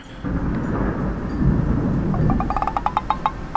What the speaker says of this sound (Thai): นี่คือเสียงฟ้าร้อง